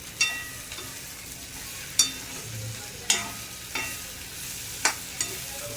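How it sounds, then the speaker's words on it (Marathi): Masala okra (bhindi) cooks on a low flame with a faint sizzle, and a spoon scrapes and stirs the pan in several sharp strokes spaced about a second apart. "1-2 मिनटं मिक्स करून घेतली की तिला मंद आचेवर शिजत ठेवूया."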